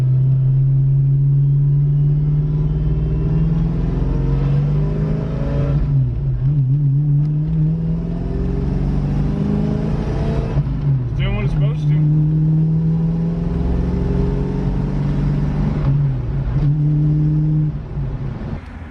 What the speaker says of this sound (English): First test drive on the highway, and I get pulled over instantly